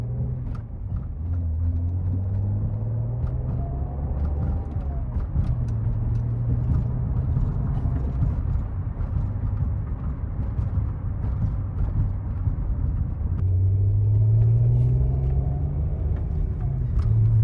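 A 1986 Acura Legend with a 5-speed manual and worn CV axles accelerates gently, its engine drone rising in pitch through the gears over steady road rumble, heard from inside the car.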